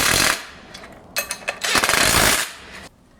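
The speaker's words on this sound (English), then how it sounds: "you can snug these up with impact if you'd like" Impact wrench snugging 10 mm nuts on a pivot rack assembly, short loud bursts of rapid hammering with brief pauses between, close up.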